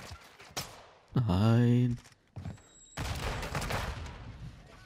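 Gunfire in a sniper-focused first-person shooter game, with a loud sustained burst near the middle and scattered shots, mixed with someone talking in German and game noise.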